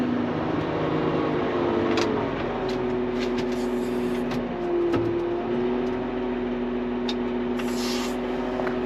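A brand new Hyundai HL980A wheel loader drives slowly into a parking spot, its engine holding a steady loud drone with a brief dip in pitch midway, no talk over it.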